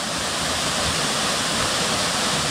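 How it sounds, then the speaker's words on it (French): The Cascade des Tuffes, a tufa waterfall in the Vosges, roars as a loud, steady broadband rush of falling water that stays unbroken throughout. "Donc cette cascade là, des Tuffes là"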